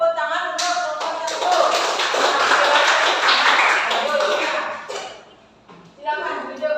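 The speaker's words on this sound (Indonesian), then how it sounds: "tepuk tangan untuk kelompok" Classroom applause for a presenting student group during a teaching practice session, dense clapping that swells and holds for about five seconds, then drops away before a brief second burst, with voices mixed in.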